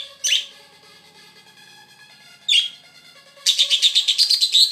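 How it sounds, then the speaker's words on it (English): A rowdy pet bird chirps nearby: two short, sharp calls a couple of seconds apart, then a loud, rapid run of repeated tweets at the end. "Such a rowdy bird, huh?"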